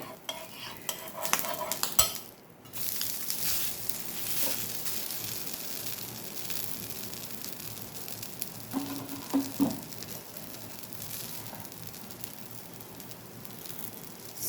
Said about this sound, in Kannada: ಅರ್ಧ ಟೀ ಸ್ಪೂನ್ ಎಣ್ಣೆ ಹಾಕಿ ನಾನು ತಿರುವಾಕಿ ಬೇಯಿಸ್ತೇನೆ